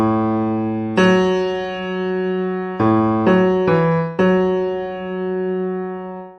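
Opening melody played as a short run of sustained, clean keyboard-like notes: a long first note, then a quicker cluster of several notes and a final held tone, clear and close with no talk.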